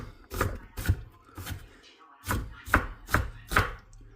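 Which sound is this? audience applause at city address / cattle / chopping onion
chopping onion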